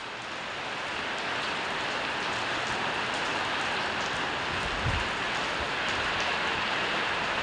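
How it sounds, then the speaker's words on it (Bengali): Heavy rain falls in a steady, dense hiss that fills the whole stretch at an even loudness, with no pauses or voices. "এখন আবার বৃষ্টি হইতেছে"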